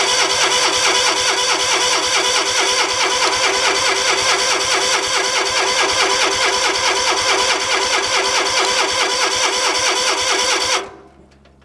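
A 1953 Jeep CJ3B engine, revived after 30 years, cranks steadily with a fast even rhythm from the starter. It runs loud and continuous for about ten seconds, then cuts off abruptly into near silence, and it never catches.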